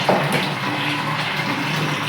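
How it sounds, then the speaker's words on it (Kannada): Water poured from a vessel into cooking pots set on a stove, a brief splash at the start followed by a steady, close trickling and gurgling fill, with no voices. "ನಮ್ಮ ಅಪ್ಪಾಜಿಯರು ಒಲಿ ಮ್ಯಾಗ ನೀರು ಹಾಕ್ತಾರಿ."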